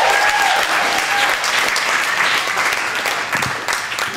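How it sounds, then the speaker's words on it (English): An audience at a comedy show in The Park Theatre applauds, a dense sustained wash of clapping from a crowd that holds steady for several seconds. "I'm glad you guys applauded for that"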